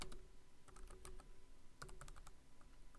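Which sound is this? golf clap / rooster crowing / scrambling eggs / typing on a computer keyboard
typing on a computer keyboard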